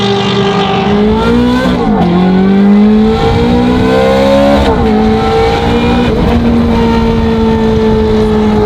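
Barn-find Ferrari with a straight-piped FI exhaust revving hard and loud up close, the engine note climbing and dropping through repeated blips and sustained high-rpm pulls.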